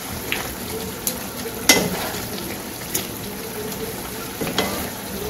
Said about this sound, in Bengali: এই পাশে তো মাছ দিয়ে দিচ্ছি তরকারিতে